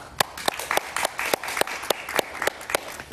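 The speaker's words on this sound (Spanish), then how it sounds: "lo recibimos con un fuerte aplauso" A studio audience welcomes a Spanish musician to a television talk show, a short burst of clapping with sharp individual claps standing out near the microphone.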